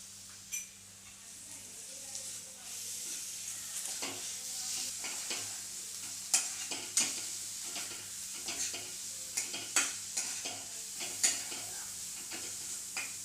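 Ground green chili and garlic paste fries with turmeric in a pan for vangyache bharit. A steady, close sizzle runs throughout, broken by repeated sharp scrapes of a spoon stirring.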